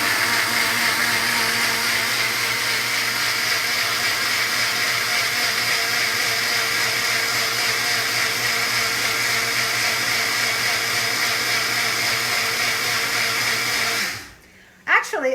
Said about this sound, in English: what I'm using is this blender called Tri-Best